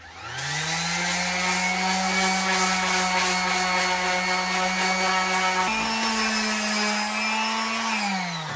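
A power sander runs with 80-grit sandpaper on a wooden head. Its loud, steady motor whine holds for several seconds, steps up in pitch, then winds down at the end.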